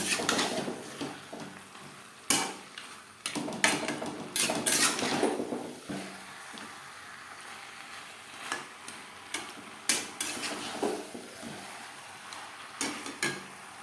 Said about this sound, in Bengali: মাছের মাথা আলু চাল ও মশলার সাথে বেশ ভালো করে মিক্সড করে দেবো